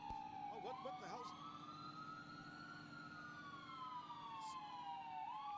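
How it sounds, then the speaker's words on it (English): An ambulance siren wails in rising and falling sweeps, faint and distant, with a short burst of voices near the start. "what is this? It's an ambulance, obviously"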